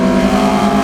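A road-going Alfa Romeo Giulia GTA 1600 engine revs loud and close, holding a steady, buzzing high-rpm note with a bright harmonic edge.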